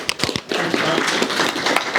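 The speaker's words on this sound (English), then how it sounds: "Round of applause for Mark." Audience applause for a speaker being introduced at a London DevOps meetup, a steady wash of clapping from a crowd in the room lasting a couple of seconds.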